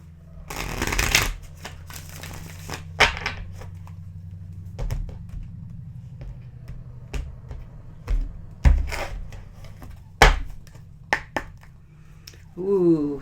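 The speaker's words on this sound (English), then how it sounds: "One more shuffle here." Tarot cards riffled and shuffled in quick bursts of crisp papery flutter and sharp slaps, close up, with brief pauses between and no talking.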